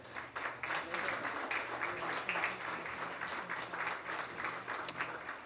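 A corporate event audience applauds steadily, a dense, fairly distant wash of clapping under low background noise.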